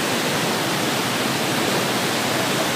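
Floodwater spilling over from a roadside drain during a major flood in Kajang, a steady dense rushing roar with no break, loud and close, with no voices.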